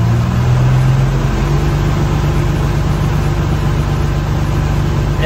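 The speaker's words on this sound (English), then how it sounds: "I'm gonna rev it up and see what it sounds like if we hit the rev limiter" A vintage offroad Wecker engine held against its rev limiter, a loud, steady low engine drone that drops slightly in pitch early on and then holds constant, with no popping and no talk.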